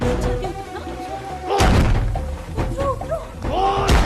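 A door is pounded and slammed with heavy thuds while someone tries to force it open, under agitated voices and background music.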